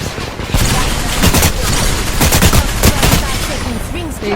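Bursts of automatic gunfire and rapid shots in a video game firefight, loud and dense, crackling nearly continuously over a few seconds, with excited players talking over it.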